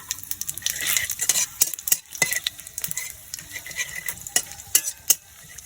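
Whole cumin, bay leaf and a split dried chilli fry in oil with a light sizzle, punctuated by sharp metallic spoon clinks and scrapes against the pan at an irregular rhythm, close by and with no voices.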